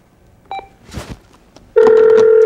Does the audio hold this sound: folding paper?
no